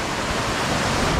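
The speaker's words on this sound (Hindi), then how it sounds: "और ये येम्बू नदी" Flowing water of the Yambung River in Arunachal Pradesh, a dense, loud and steady rushing wash close by, with no voices over it.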